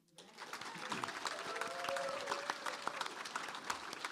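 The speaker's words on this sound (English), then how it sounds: "if we could just give another round of applause for the legendary, amazing Judy Pfaff" Audience applause for artist Judy Pfaff at an evening artist talk and reading in Provincetown, a steady moderate wash of many hands clapping, fairly distant, with faint voices threaded through.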